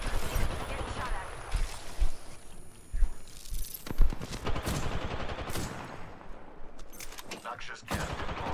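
Gunfire in the video game Apex Legends, dense bursts of automatic fire and scattered single shots with thuds and footsteps mixed in, under a voice that talks over the action.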